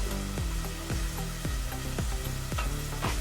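Potato wedges fry in oil with garlic, giving a steady loud sizzle broken by a regular series of sharp crackling pops. There is no talking.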